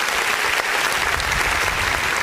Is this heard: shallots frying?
no